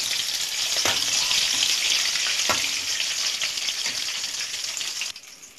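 Chicken sizzles steadily in a hot frying pan, a dense continuous crackle and hiss with a few sharper pops, fading abruptly near the end.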